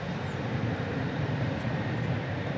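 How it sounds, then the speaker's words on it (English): An American Airlines Boeing 767 bound for Silao, Mexico, takes off from Dallas-Fort Worth airport, its engines giving a steady, even broadband roar from some distance. "And off to the races goes American Flight 853"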